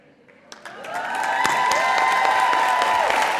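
An audience applauds graduates at The American University of Paris 2022 commencement ceremony, the clapping building from a few scattered claps into sustained, dense applause filling the hall.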